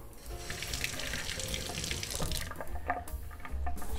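A fountain pen is rinsed under a running tap, with a steady splash of water into a sink and a few drips near the end, close and alone.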